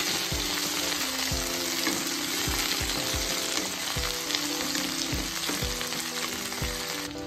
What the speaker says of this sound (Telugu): కొద్దిగా అల్లం ముక్కలు, 10 వెల్లుల్లి రెబ్బలు వేసి ఇవి కూడా వేయించేసుకోవాలి